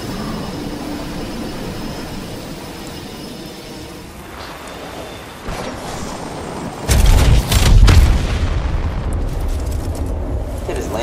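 Cannon fire in an online shooter video game, a couple of loud booming blasts rising abruptly out of a steady rumbling background partway through.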